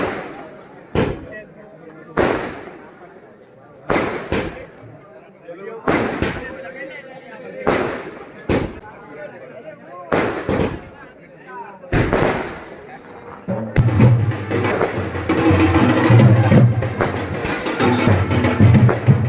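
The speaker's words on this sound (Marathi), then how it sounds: "फटाक्यांची आतिषबाजी करत" Sharp firecracker bursts ring out one after another at irregular intervals during a temple palkhi procession, loud and close, followed by a dense crackling barrage of fireworks building toward the end with crowd noise underneath.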